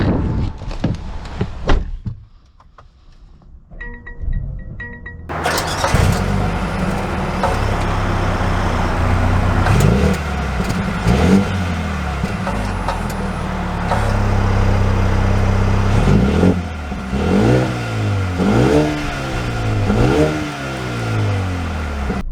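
A Mercedes-AMG A35 engine revs and accelerates while driving, with repeated rising pitch sweeps as it climbs through the gears over steady road noise.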